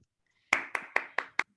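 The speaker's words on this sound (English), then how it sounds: "let's just have a round of applause for all of these guys." A round of applause at a video making competition: five separate, sharp claps spaced evenly about a fifth of a second apart, close and crisp, with no talk over them.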